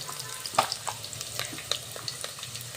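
Onions fry in a pan until browned with a soft steady sizzle, broken by a few sharp clinks and scrapes of stirring, close by and moderately quiet.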